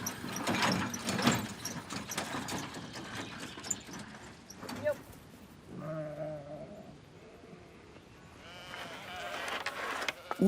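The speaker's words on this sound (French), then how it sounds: "Son troupeau est composé de 800 moutons et de quelques chèvres." A large flock of around 800 sheep with a few goats bleats on open heathland, overlapping calls near and far, while a narrator talks over much of it.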